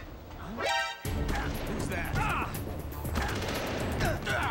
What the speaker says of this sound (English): Ow, quit shooting me!